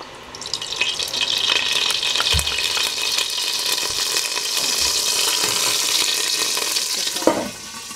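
Olive oil poured into a pan for old-fashioned braised potatoes, giving a steady close hiss and sizzle that holds for several seconds, with a brief clunk near the end.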